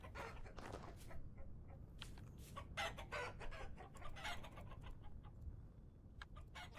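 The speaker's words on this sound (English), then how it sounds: "there's even a cockerel in here." A cockerel and hens in the survival game Vintage Story cluck repeatedly in a steady, busy stream of short calls, moderately close, with no talking.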